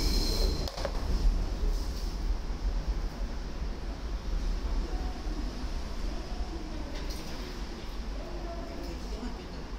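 An Osaka Metro train rolls through Shin-Osaka station, a steady loud rumble of wheels and motors with faint squeals and clanks, continuous and fairly close throughout.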